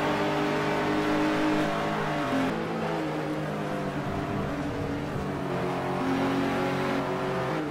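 Mid-1980s BMW and Rover touring cars racing at Pukekohe in the New Zealand touring car championship, loud engines roaring and revving steadily up through the gears, with a brief drop between shifts, no talk over them.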